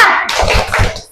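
A grade 7 class claps a quick rhythmic spirit cheer together in a classroom, a few sharp group claps in a short burst that fades at the end.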